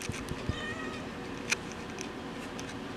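A house cat meows several times in short, close calls indoors, with small clicks and a brief sharper sound mid-way, no talking.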